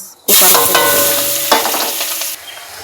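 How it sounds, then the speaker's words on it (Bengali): Onions stirred in hot oil with dried red chilli and cumin, a loud sizzle that bursts in suddenly and carries on with scraping stirs, then drops off near the end. "এই যে পেঁয়াজ নেড়ে চেড়ে নিয়েছি।"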